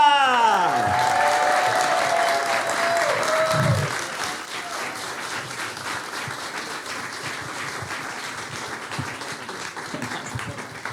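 A studio audience applauds to welcome a guest on a talk show, steady dense clapping that starts loud and eases slightly, with a tonal sweep near the start and talk faintly underneath.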